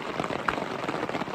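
Heavy rain pours steadily on a campsite during a kayak camping trip at The Massasaga Provincial Park, a dense, continuous hiss of drops striking surfaces, close and even throughout with no talking.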